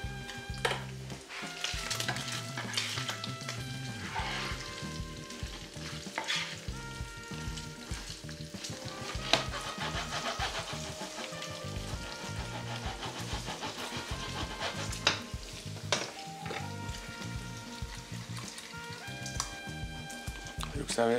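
Mac and cheese sauce bubbles in a pot while being stirred continuously, a steady low churning and sizzle running throughout under a voice talking over it.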